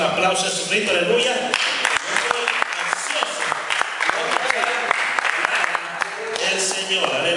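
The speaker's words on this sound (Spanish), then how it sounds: "En esta noche un aplauso a Jesucristo" A church congregation applauds loudly and steadily throughout, the dense clapping broken by sharp individual claps, with voices mixed into the crowd noise.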